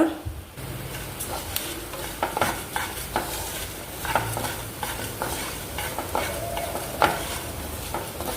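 Coriander seeds, cumin, fenugreek and black peppercorns dry-roasting in a pan for chicken pulimunchi, with repeated sharp spatula scrapes and taps over a soft background crackle, close and clear.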